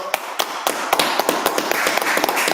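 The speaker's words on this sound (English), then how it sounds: "So clap it up" A congregation claps at a Sabbath service, with sharp, dense, rhythmic hand claps repeating steadily and fairly loud across a roomful of people.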